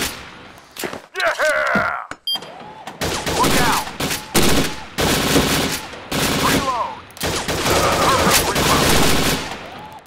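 Repeated gunfire bursts from a shooting video game, dense and loud across most of the stretch, broken by short pauses and mixed with game voices.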